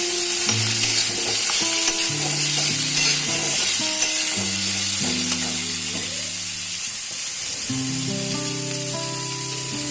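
Chopped onions fry in a pan, with potatoes going in next, as part of a chicken and vegetable dish. A steady, close sizzle runs the whole time, with stirring clinks and background music over it.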